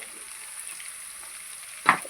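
Chopped onion fries in a pan with a quiet, continuous sizzle and a single sharp clink of a utensil near the end, with no voices.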